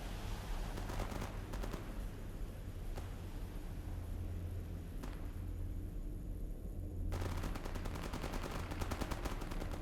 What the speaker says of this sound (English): is that a squad opening fire on zombies, or is that like a exchange of fire?